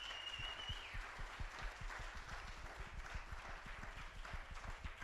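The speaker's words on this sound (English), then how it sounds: "Please clap for them." Sustained applause from an audience honoring a residents' council at a quarterly meeting, dense clapping with steady rhythm throughout, fairly distant and moderately loud.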